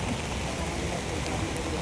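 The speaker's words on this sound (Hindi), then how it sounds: "बारिश रुकने का नाम नहीं ले रही है।" Heavy monsoon-style rain pours down steadily in Lonavala, India, a dense, continuous hiss of water drumming on surfaces with no pauses and no voices.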